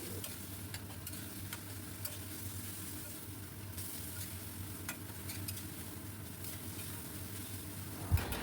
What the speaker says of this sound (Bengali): এবার দিয়ে দিলাম আদা আর কাঁচা লঙ্কার যে পেস্ট, আবারও বেশ সময় ধরে কষাবো।